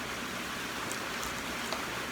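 Steady, faint hiss of rain falling, an even wash with a few soft drops and no talking.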